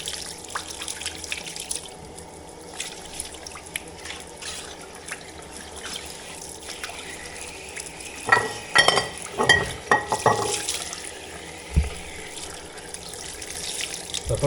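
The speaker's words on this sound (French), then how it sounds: "T'allumes l'eau froide." Cold water runs from a tap while freshly caught trout are gutted and cleaned; a thin steady trickle at first, then louder splashing bursts and handling noises near the middle, with no speech.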